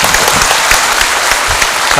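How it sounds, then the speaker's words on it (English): Audience applause for the Minister of External Affairs at a formal interaction event: dense, steady clapping from a crowd, loud and close, sustained for the whole two seconds without a break. "We just give another round of applause for our Honorable Minister"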